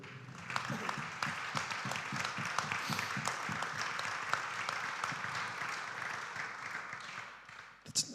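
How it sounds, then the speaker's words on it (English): A church congregation gives sustained applause, a dense steady wash of many hands that carries on evenly for several seconds before tapering off. "a round of applause and show that we're with him"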